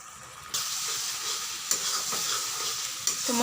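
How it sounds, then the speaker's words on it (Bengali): Spices sauté in a hot pan for a spicy chicken curry, a dense, close sizzling hiss that swells after a quiet start, broken by a few sharp spatula scrapes. "মশলাগুলোকে বেশ ভালো করে কষাতে হবে"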